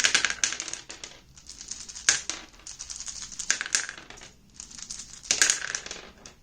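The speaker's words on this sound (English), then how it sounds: "So for this part of the reading, I will be utilizing some homemade dice." Homemade dice are rolled and tumble onto a surface, giving sharp clattering bursts separated by brief pauses, close and fairly loud, with no voices.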